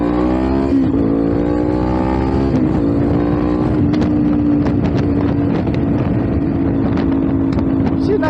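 A tractor with no tail light drives past at night. Its engine rumbles steadily and loud and close, with the pitch wavering as it passes, under constant wind buffeting and road noise.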